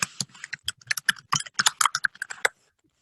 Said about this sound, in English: now I can type my answer